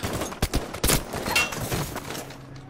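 Battlefield V gunfire: a few sharp, loud shots crack in quick, uneven succession, followed by a short tail of scattered distant pops and game ambience, with no talking.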